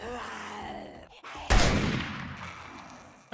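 A single loud gunshot from a weapon in the game 7 Days to Die cracks out midway, its blast trailing into a long ringing decay over quieter background game ambience.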